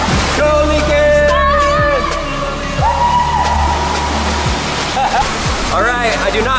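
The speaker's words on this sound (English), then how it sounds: "That just turned on the water. Do you hear that?" Water rushes down a pool slide inside a luxury doomsday bunker, a loud, steady roar that runs without a break, with voices and a few tonal sounds on top of it.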